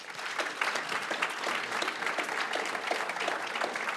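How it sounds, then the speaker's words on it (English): Sustained audience applause at a panel discussion on rare disease research in Washington, DC, a dense, steady patter of many hands clapping close and loud throughout, with no speech over it. "Can we get another round of applause for this panel and for Sarah?"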